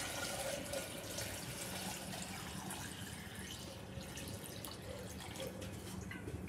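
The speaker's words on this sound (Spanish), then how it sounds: "vamos a ponerle agua" Water is poured into a flower vase holding a wire ball for a Christmas arrangement, a faint steady trickle and splash that runs throughout with no voices.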